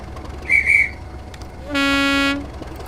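A Class 37 diesel locomotive in Train Simulator sounds one short, steady two-tone horn blast acknowledging the guard at a station, loud and clear, after a brief whistle-like tone from the platform.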